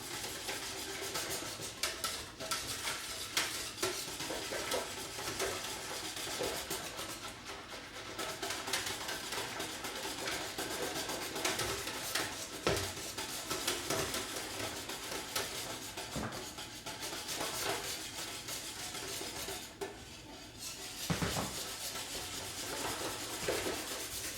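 Whisking in a bowl during a home beer brew day, a steady, close, continuous rasping swish that keeps up without pause, with occasional louder scrapes.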